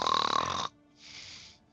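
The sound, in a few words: person imitating a big snore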